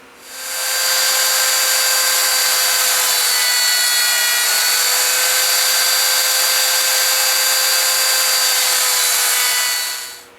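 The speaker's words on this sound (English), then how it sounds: "I'm going to run a 1/4 inch round over bit along this this handle" A router with a 1/4 inch round-over bit whines steadily as it shapes a wooden spoon handle, spinning up at the start, holding a loud, even pitch, then winding down at the end.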